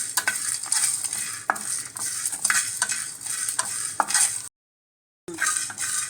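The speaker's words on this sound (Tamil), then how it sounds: "இப்போ வறுபட்டுச்சு, நம்ம பிளேட்டுக்கு மாற்றிக்கலாம்." Paneer and green chillies fry in a pan, a bright continuous sizzle with repeated stirring scrapes and clicks of a spoon, cut by a brief silent gap before the frying resumes.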